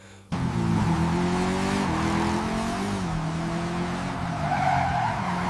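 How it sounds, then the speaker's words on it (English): Cars in a GTA-style car chase burst in after a brief silence, with engines revving hard and tires squealing through continuous skids, loud and sustained with shifting engine pitch and no talking. "For example, this GTA-style car chase scene."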